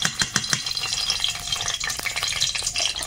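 Ghee with whole spices sizzling in a pan while biryani is being cooked, a close, steady crackling fry with a few sharp stirring clacks at the start.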